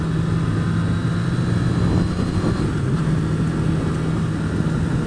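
Honda CBR1000RR motorcycle engine braking on the road, a steady loud low drone with a humming tone and broad wind rush, continuous throughout with no talking.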